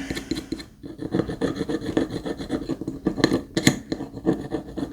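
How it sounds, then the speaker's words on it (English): Rough, rasping strokes of dried hot glue being scraped off a mirror-making craft surface, repeated in a steady back-and-forth rhythm, close and fairly loud with no talking. "got all that scraped off"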